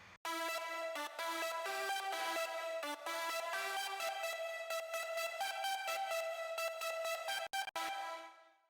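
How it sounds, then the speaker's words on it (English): A bright sawtooth synth track with EQ, isolated from an electronic mix, plays a steady sustained melodic line with rhythmic gated chopping for about eight seconds, loud and dry with no talk. "next up is the synth saw, which sounds like this."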